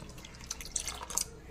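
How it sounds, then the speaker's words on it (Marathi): Water poured into a vessel of washed barnyard millet and sago, giving faint splashy drips and trickles at close range, with quiet speech in the background. "आता आपण यात पाणी ओतू"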